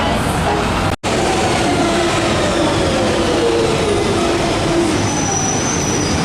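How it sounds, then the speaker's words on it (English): London Underground Central line train running through tunnels near Tottenham Court Road, a loud, continuous rumble with faint wheel squeals throughout and a brief dropout near the start. "This is the train."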